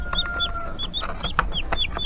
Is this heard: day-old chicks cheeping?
yes